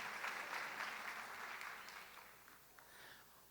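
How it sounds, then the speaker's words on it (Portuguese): An audience at a Brazilian tax compliance talk claps for the next speaker, a soft, fairly distant applause that swells early and then tapers off gradually. "Por favor, palmas para a Antônia Schmidt Negruni"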